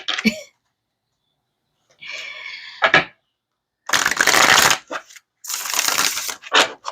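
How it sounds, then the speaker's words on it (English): Tarot card deck being shuffled by hand, several separate bursts of crisp riffling and flicking cards with short silent gaps between them, close and loud. "I want to do it one more time. And one more shuffle."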